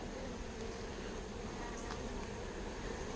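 Honey bees buzz in a close, continuous drone around a queen confined in a one-handed queen catcher held over a brood frame, a soft, even hum with no talk.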